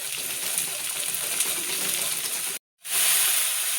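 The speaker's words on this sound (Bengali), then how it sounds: "দিয়ে এবার আমি এটা ভালোভাবে এই তেলটার সাথে ভেজে নেব।" Ginger paste frying in oil for a drumstick-flower malai curry, a steady close hiss and sizzle with soft crackle that cuts out briefly near the end, then resumes louder.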